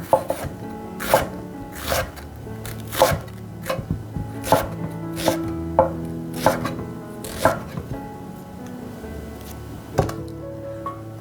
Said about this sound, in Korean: 양파를 쓸어 보겠습니다